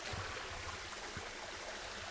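A steady broadband rush of a waterfall and stream at Carnarvon Gorge, Queensland, with faint low gurgles underneath and no talking.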